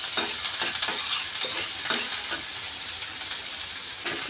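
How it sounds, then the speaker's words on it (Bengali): Chopped onion frying in a pan until light brown, a bright, continuous close sizzle broken by repeated scraping stirs of a spoon. "প্রথমে আমি পেঁয়াজ কুচি দিচ্ছি। পেঁয়াজ কুচিটাকে একটু হালকা ব্রাউন করে নেব।"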